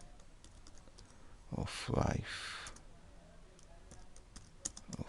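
Quiet keyboard typing on a computer during a CorelDraw design session: scattered soft clicks of keys, with a short louder burst midway, under a brief spoken word.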